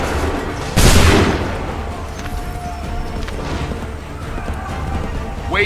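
A single loud, sharp volley of musket gunfire in Assassin's Creed III, followed by a decaying rumble and softer battlefield noise.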